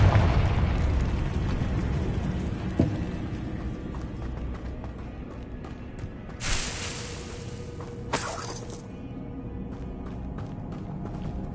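Confringo blasting spell in Hogwarts Legacy, two bright bursts a couple of seconds apart rising out of a steady rumbling game background, with a fainter pop earlier.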